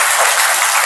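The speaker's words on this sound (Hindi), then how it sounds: "ताली बजाइए प्लीज" Audience applause at a motivational talk in a hall, a steady dense wash of clapping filling the whole moment with no voices over it.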